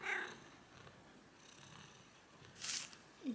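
A cat lying down purrs quietly and steadily, a soft low rumble with a few brief louder rustles near the start and end.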